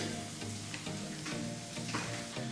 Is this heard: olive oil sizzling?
yes